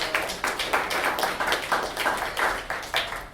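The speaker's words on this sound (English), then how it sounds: "So I want to give them a round of applause for all the great work that they've done." An audience at a higher-education digital advertising talk at the EvolveDrupal NYC 2024 conference applauds, a short burst of steady, even clapping from a modest crowd.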